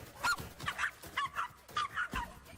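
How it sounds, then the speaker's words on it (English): Dog barking and lunging while passing another dog, a rapid series of sharp barks and yips in quick bursts, moderately close but fairly quiet, with no talk. "She can't pass the dog without barking and lunging."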